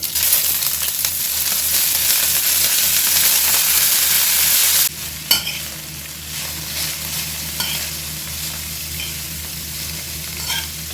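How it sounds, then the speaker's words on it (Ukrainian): Cabbage sizzles and hisses loudly in 4-5 tablespoons of hot oil in a pan, then the sound drops after a clatter, leaving softer frying with occasional crackles and stirring. "Смажу капусту до золотистого кольору."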